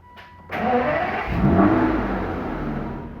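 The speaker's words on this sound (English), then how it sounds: "it's time to get the car started." An Aston Martin DB9 engine cranks and catches, flaring into a loud rev that eases into a rough, steady running sound, heard alone and close.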